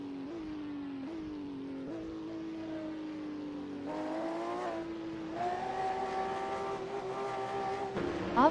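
GTO race cars in a racing game pull away from the start at Brno, engines droning and revving as they shift up, several cars layered and growing louder toward the end.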